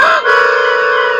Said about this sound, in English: Not even if you put a chicken